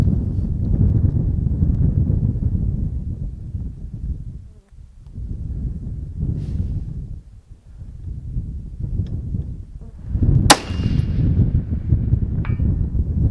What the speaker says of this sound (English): Alright, last 2 shots.